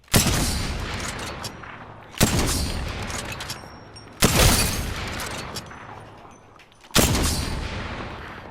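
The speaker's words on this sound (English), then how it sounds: "Sentinel. This is if you are into Call of Duty sniping, this is your gun." Four heavy Sentinel sniper rifle shots from the video game Apex Legends, each a loud sharp blast with a long rolling echo that fades slowly, spaced about two seconds apart.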